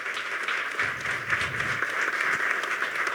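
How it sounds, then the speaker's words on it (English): An audience gives school staff a steady round of applause, many hands clapping in a continuous, moderately loud patter with a brief low rumble in the middle. "Please give them a round of applause."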